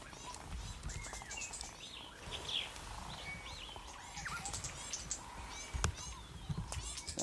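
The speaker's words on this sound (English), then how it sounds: "What kind of bird is that? Making that See- noise." Birds in a wooded hunting area give thin, high chirping calls, repeated at a moderate distance over steady outdoor background noise.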